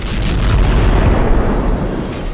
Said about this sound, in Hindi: लेबनान की सीमा के पास रॉकेट से हमला दिखा।